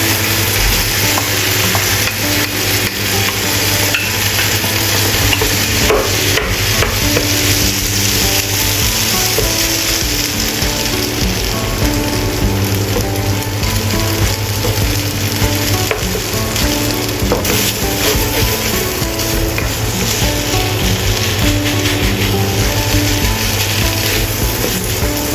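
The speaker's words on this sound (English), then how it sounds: "Add rice and stir-fry evenly." Rice tossed and stir-fried in a pan for tomato fried rice, a steady close sizzle with continuous scraping and stirring strokes of a utensil throughout, no voices.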